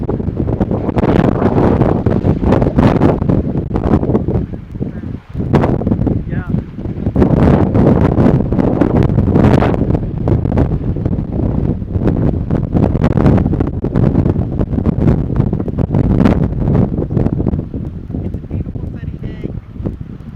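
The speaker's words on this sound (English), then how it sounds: "But it's too windy." Loud, gusty wind buffeting the microphone in roaring surges on the deck of a cruise ship at sea, with a faint sense of open water beneath the bluster.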